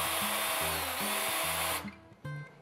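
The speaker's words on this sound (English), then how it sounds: "I'll take a drill motor with a small bit" A drill motor with a small bit bores shallow holes into crown molding, whining steadily and close for under two seconds before stopping.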